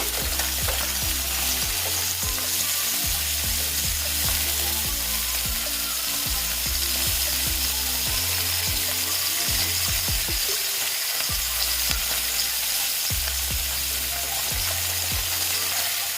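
Small bata fish frying in oil in a pan for a Bengali curry, giving a dense, constant sizzle throughout, with a low repeating mechanical ratcheting hum running underneath.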